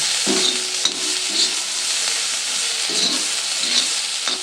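Onion and green chili sauté in a pan with a steady close hiss of frying, interrupted by soft rhythmic scraping as the pieces are stirred, with no talking.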